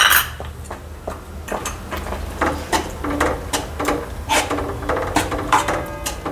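Roasted dry fruits tumble into a pan of banana sheera, making a run of close, dry clicks, rattles and scrapes in an uneven rhythm.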